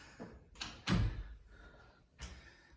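A door out to a house's garage closes with a solid thunk, followed by a couple more softer knocks and scrapes nearby, with no talking.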